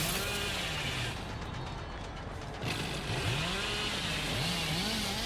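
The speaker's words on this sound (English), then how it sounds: "I was pretty determined here to get a chainsaw down." The Hillbilly's chainsaw in the video game Dead by Daylight revs in a continuous, loud, buzzing roar whose pitch rises and dips as it is held, with a brief lull midway.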